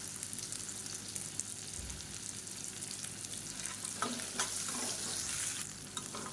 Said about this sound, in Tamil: இப்போ வெங்காயம், இஞ்சி பூண்டு எல்லாமே நல்லா வதங்கிடுச்சு